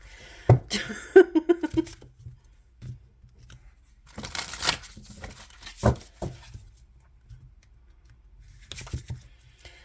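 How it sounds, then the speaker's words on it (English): A deck of tarot cards is shuffled by hand in scattered bursts of soft rustling and patter, with quiet gaps between them. "Oh, Lord. Here we go with the shuffling."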